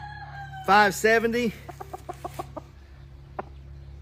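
An Asil rooster on a farm crows once loudly and close, then gives a run of short, evenly spaced clucks, with a single cluck after a pause.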